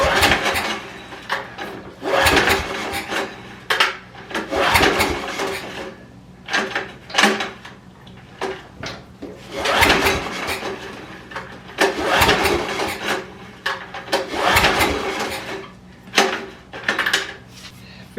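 A Yamaha-engined Ridgid 8500 generator is pull-started again and again. Each cord yank gives a loud, rough rattling burst of engine turnover, with short pauses and clanks between pulls.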